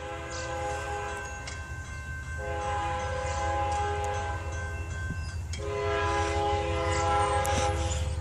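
A westbound Kansas City Southern freight train rolls past on the Mexico Sub, its horn sounding in long loud blasts over the continuous rumble and rattle of the cars, heard close and without talk.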